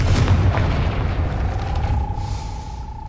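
Confringo explosion spell cast in the video game Hogwarts Legacy, a loud, sustained booming blast with heavy low rumble that slowly fades, followed by a faint rising magical tone.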